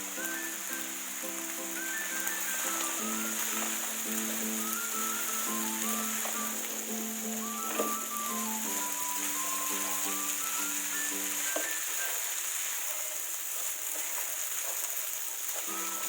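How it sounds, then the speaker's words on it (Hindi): Onions and soaked chickpeas fry in a pan for chana chaat, a steady close sizzle running throughout under light background music. "प्याज डालने के बाद 1 मिनट भूनने के बाद आप मैं चने डाल देंगे।"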